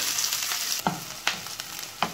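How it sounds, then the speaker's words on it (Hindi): Chopped onion, ginger, garlic and green chili sizzle in a hot pan, a steady close frying hiss broken by several sharp scraping stirs, with no talking. "हमारा प्याज, जिंजर और गार्लिक भून गया है"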